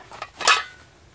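Camping cookware, including a grill, cup and fry pan, clatters briefly as it is packed into a waxed canvas sack, a short metallic rattle close by with no voices.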